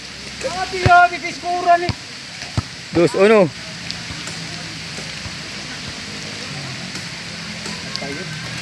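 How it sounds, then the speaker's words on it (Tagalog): Heavy rain hisses steadily throughout, while someone speaks a few short words near the start and other sounds briefly cut through. "Ayan ang ulan, ang tindi ng ulan."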